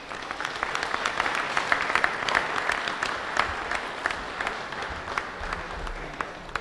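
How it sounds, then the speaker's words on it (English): A lecture audience gives a round of steady applause, dense continuous clapping from a crowd in a hall, fairly close and even throughout without speech. "Dr. Belle, another round of applause for."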